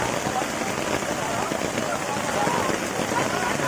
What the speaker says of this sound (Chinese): 落場大雨爬龍船